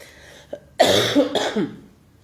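A brief throat sound, then a burst of several harsh coughs close up, fading into a short rough clearing of the throat.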